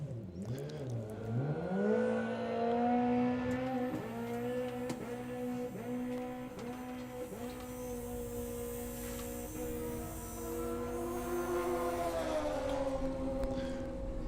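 A drag racing car at a Bug Jam event, heard from a distance, its engine tone climbing and holding through several gear changes in a long run, a droning, somewhat faint roar with shifting pitch and no talking over it.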